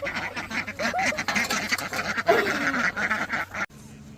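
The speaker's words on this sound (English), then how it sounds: "The ducks." Ducks quack repeatedly close by on a family farm, several short nasal calls overlapping with other fowl chatter in the background.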